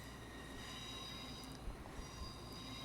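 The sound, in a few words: train running in the Roblox video game Trainware Lab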